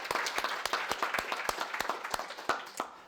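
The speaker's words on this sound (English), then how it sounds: "maybe we'll give her a round of applause" An audience claps in applause for a thesis presenter at an academic talk, with dense, fairly loud clapping throughout and sharp individual claps standing out.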